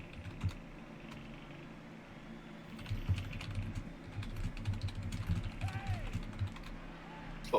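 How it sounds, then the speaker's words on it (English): Steady, rapid clicking of keys on a computer keyboard, close and continuous, with faint background murmur. "A lot of typing for a smiley."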